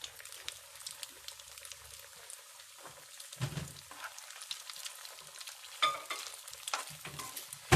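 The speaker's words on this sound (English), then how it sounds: "just fry it on a slow flame so it won't turn black or dark brown" A curry base frying over a low flame gives a quiet, close crackle and gentle sizzle, broken by scattered scrapes and clinks of stirring and a louder clatter near the end, with no talking.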